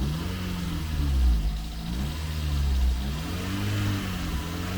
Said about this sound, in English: You can hear it as I rev it up.